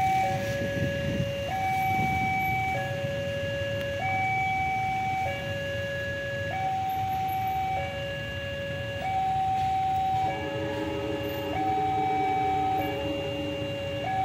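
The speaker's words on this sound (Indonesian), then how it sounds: "komuter lokal Bandung Raya melintas petak Jalan Sunda" A local Bandung Raya commuter train passes a railway level crossing at Jalan Sunda while the crossing alarm sounds a steady alternating two-tone warning throughout, with low rumbling traffic and train noise underneath.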